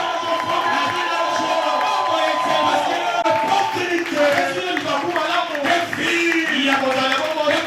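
A congregation at a Sunday church service cheers, whoops and claps in a loud sustained roar, with voices shouting over the noise throughout.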